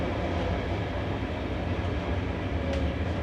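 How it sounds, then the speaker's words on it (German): Greek intercity train rolling into Thiva station, a steady dense rumble of wheels and carriage noise heard from inside the coach, continuous and fairly loud with no talking. "Einfahrt in Tiva."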